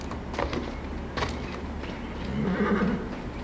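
A horse in Assassin's Creed Origins whinnies and neighs amid clip-clopping hooves, with sharp transient knocks early and a louder, drawn-out neigh near the end.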